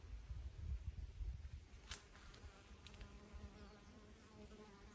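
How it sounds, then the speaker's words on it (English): Bees fly around the flowering branches of a linden tree in rural Ukraine, making a faint, steady buzzing hum that drifts close and far with soft background rustle and no voices. "Bees are flying,"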